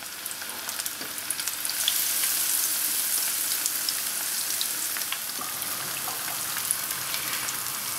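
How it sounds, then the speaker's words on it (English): Beer-battered fish pieces fry in hot oil, producing a dense, loud, continuous crackling sizzle with fine popping throughout, steady and close with no voices. "dip these in to the batter, up the side of the bowl, a little bit of that batter off, and then into the oil"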